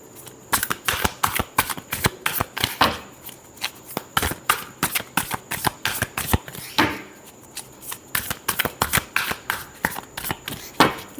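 Tarot cards are shuffled steadily for several seconds, a dense run of crisp riffling flicks and slaps with brief pauses between bursts, close and clear with no talking.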